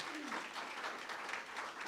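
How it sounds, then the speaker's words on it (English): A crowd applauds with steady, dense clapping that holds at an even level throughout, with no pauses. "Can we give them another round of applause?"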